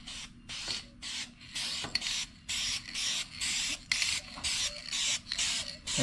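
A spray gun lays down GM brown base coat paint on a Mustang in about a dozen short, regular bursts, each hiss stopping and starting in a steady rhythm, close and loud.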